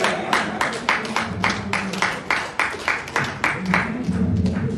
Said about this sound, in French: Sous vos applaudissements, chers amis.